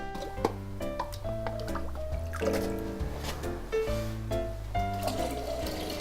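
Mineral spring water in Cheongsong being drawn into containers, a gurgling, rising fill with splashes and drips over steady tonal music in the background.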